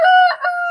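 A farm rooster crows once, loud and close, a short clear cock-a-doodle-doo standing alone with no voices.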